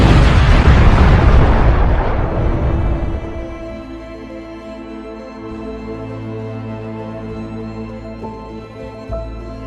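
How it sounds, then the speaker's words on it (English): A huge Big Bang explosion: a massive booming blast that starts at full force, then decays into a long rumbling, ringing tail that lingers and fades slowly. "They created the Big Bang."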